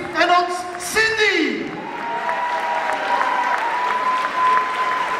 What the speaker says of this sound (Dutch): Een enorm warm applaus voor de ouders van onze vriend Bjarne, onze Yves en ons Cindy.